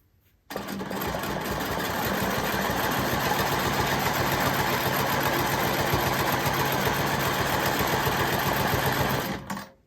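Quilting machine stitching across a quilt, a steady close mechanical whir with fast needle rattle that starts abruptly, runs evenly for about nine seconds, then stops; no talking.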